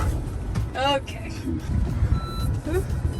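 A 7,000-pound camper van stuck in sand dunes gives repeated electronic reversing beeps under engine rumble and wind, with people talking throughout.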